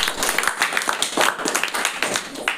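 An audience at a school debate on World Food Day applauds both speakers, a dense, steady patter of many hands clapping close by that carries on throughout.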